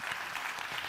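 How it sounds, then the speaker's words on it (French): Audience applause for a round-table panel of experts and journalists, a full, even patter of many hands clapping throughout. "On peut effectivement les applaudir"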